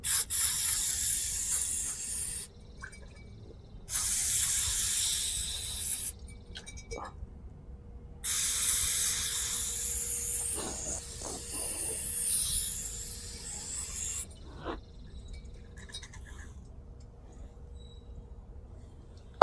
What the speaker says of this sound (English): Let me grab the carb spray.